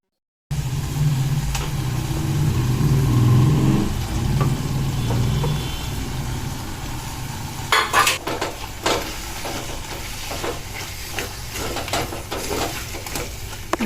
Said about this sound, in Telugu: ఉల్లికారం ముద్దని ఇందులో వేసుకొని మంచిగా కలిపి మళ్ళీ మూత పెట్టుకోవాలి